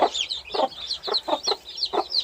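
Broody hens cluck in a steady rhythm of about five low calls, while chicks cheep high and continuously on top, close by in an enclosure, with no talk.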